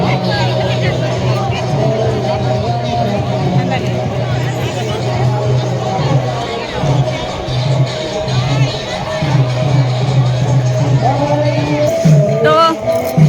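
A large, dense crowd mills around a village Shiva temple on Maha Shivaratri, a steady close babble of many voices with occasional louder calls and a brief clatter near the end, people talking nearby throughout.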